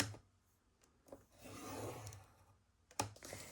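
A paper greeting card is scored on a scoreboard, giving quiet rubbing scrapes close by, with a soft drawn stroke in the middle and a sharp tap near the end.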